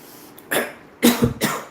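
Three harsh coughs close by, the second one rougher and throaty, spaced irregularly with short pauses between them.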